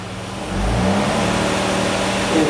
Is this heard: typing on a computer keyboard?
no